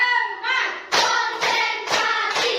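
A primary school class claps hands in time to a spoken count, sharp bursts of clapping landing in a steady rhythm roughly every half second while a teacher's voice calls out over them.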